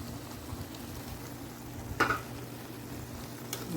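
A spoon stirs milk into spaghetti squash and shrimp pasta in a pan, a faint soft scraping with a gentle sizzle underneath and a couple of brief clinks against the pan.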